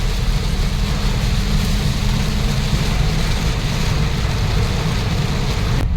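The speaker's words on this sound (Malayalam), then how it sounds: "മഴയത്ത് ഇങ്ങനെ യാത്ര ചെയ്യാൻ നല്ലൊരു സുഖമാണ് അല്ലേ" Steady rain and road noise inside a moving vehicle, a dense continuous hiss over a low engine rumble that stays even and loud throughout with no voices.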